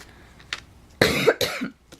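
Several separate coughs from one person indoors, close and fairly loud, the harshest two clustered together midway, with brief pauses of quiet between them.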